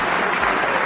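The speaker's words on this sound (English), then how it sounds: "Let's give them another round of applause." Brief burst of applause during an online Marble Blast Ultra game awards stream, dense steady clapping filling the short moment without speech over it.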